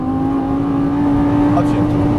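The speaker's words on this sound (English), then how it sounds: "All right, full throttle coming out" A Lamborghini Gallardo LP550-2 engine holds a steady, loud, rising tone at full throttle out of a corner, heard from inside the car with a faint voice under it.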